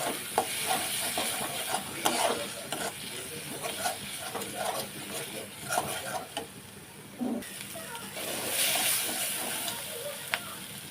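Spice masala for a soyabean kasha curry is stir-fried in oil until the oil separates: a continuous close sizzle with irregular spoon scrapes and stirring, moderately quiet, occasional louder knocks, no talking.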